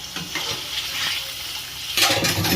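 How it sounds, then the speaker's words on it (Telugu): Chicken fries in hot oil with ginger garlic paste in a pan, a steady loud sizzle with stirring scrapes that swells louder near the end, no talking. "డ్రై అయిన చికెన్ని మనం అల్లం వెల్లుల్లి పేస్ట్లో ఆయిల్ ఉన్న దాంట్లో మనం వేసినప్పుడు అది ఫుల్గా ఫ్రై అవ్వాలండి"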